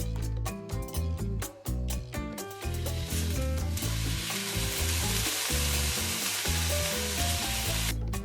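Trout fillet fries skin side down in a hot pan, giving a steady bright sizzle that fills the clip, with clattering and scraping utensil sounds near the start and end.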